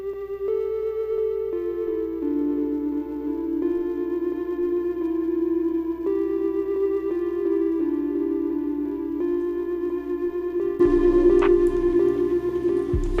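Synth top line from a Crystal Horizon preset, a steady sustained melodic lead gliding between held notes with effects, heard alone at moderate level, with a brief louder burst of extra sound near the end.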